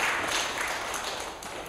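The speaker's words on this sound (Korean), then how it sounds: "박수로 보내주십시오." Applause from an audience at an outdoor send-off rally for a Seoul-to-Rome anti-nuclear pilgrimage, a steady wash of many hands clapping that holds at an even level throughout without any voices.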